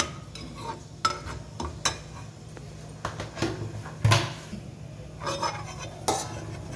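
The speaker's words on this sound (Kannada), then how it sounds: "ಒಂದು ಅರ್ಧ ಸ್ಪೂನಷ್ಟು ಜೀರಿಗೆ ಫ್ರೈಗೆ ಹಾಕಬೇಕು." Cumin seeds frying in oil in a pan for chana masala, a low steady sizzle under repeated sharp clinks and scrapes of a spoon against the metal pan, no speech.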